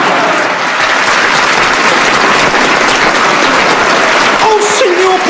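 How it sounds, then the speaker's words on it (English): A theatre audience at an opera performance of Madama Butterfly applauds continuously, a dense wash of clapping heard from offstage, with a voice briefly speaking near the end. "Oh, listen, Frankie, they're still clapping."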